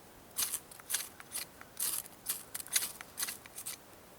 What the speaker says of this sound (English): when you do it, you want to have a good grip on your ferro rod and on your knife